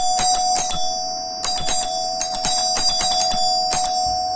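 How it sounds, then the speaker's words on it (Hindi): An electric doorbell chimes repeatedly in a fast, bright electronic tune over a steady whine, loud and close, with no voices. "डोरबेल ऑन हो गई है।"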